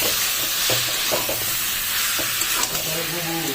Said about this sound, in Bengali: এরপর এটিকে ভালোভাবে নাড়িয়ে নেব, একদম ভালোভাবে মিক্স করে নেব।